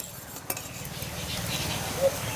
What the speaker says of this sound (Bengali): এবার হালকা আছে নেড়ে চেড়ে খুব সুন্দর একটা ডো তৈরি করে নেব